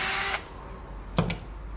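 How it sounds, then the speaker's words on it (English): A power drill drives screws into a carpet runner's stair rod in short bursts: a brief high whine at the start, then a quick double buzz a moment later, close and clear against a quiet room. "make sure you hold your drill in an angle"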